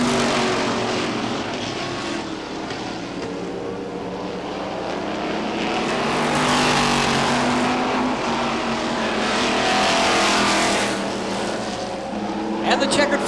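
Stock race cars roar around the track at Lee Speedway on the final lap, a dense, loud engine drone that swells and fades as the pack passes, with an announcer talking over it.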